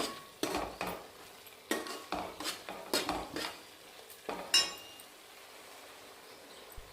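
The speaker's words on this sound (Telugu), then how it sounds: "అడుగంటకుంట అంతా కలుపుకోవాలి" Coriander rice is stirred in a pan with a spoon, giving a run of distinct scraping clinks in quick bursts, close and fairly quiet, then fading to near silence.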